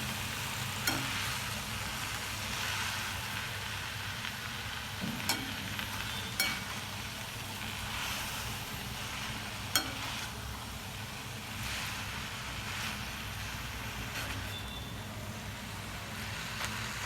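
Fenugreek leaves and moong dal being stirred in a pan, a soft continuous sizzle with occasional scraping clicks of the spoon, steady and close, with no talking.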